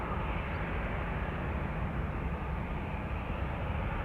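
Airliner in Shamrock retro livery departing Amsterdam Schiphol, a broad steady roar of jet engines at takeoff power, loud and continuous without letup.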